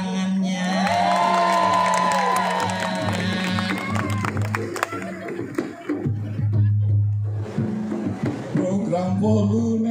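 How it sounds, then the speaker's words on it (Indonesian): A crowd at a madihin performance event in Jakarta applauds and cheers, whoops rising over clapping while a loud voice carries on over a steady tonal background, the noise swelling again toward the end. "kepada beliau berikan tepuk tangannya."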